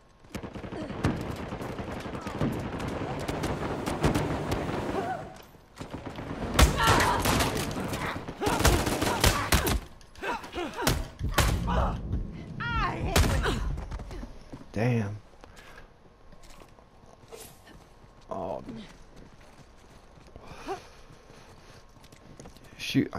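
Sharp, loud gunshots crack out in the video game Uncharted 4, some in quick bursts and some single, with a pistol among them, mixed with footsteps and movement sounds while someone talks intermittently.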